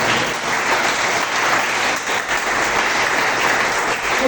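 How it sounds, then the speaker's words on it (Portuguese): A church congregation applauds for Jesus during a Portuguese-language worship service, a dense, steady wash of clapping that fills the room at full volume throughout, with no voices rising above it. "dá uma salva de palmas para Jesus."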